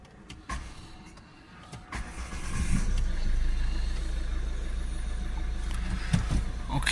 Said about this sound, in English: Before we start it up.